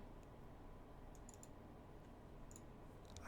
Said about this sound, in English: if I click through, you can hear the mouse clicks in the background.